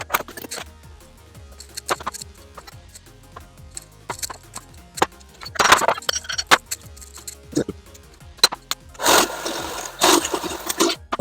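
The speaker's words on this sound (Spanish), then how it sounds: "Limpiamos, lo pasamos por el cepillo de alambre" A wire brush scrubbing a Suzuki Grand Vitara axle shaft part, giving irregular scraping and clinking strokes, then a longer dense burst of bristle scraping near the end.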